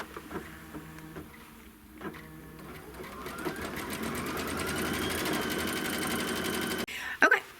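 A sewing machine stitches a quilting design through the layers of a quilt block. It starts with soft intermittent clicks, then settles into a sustained, even, rapid whir before it stops abruptly with a couple of clunks.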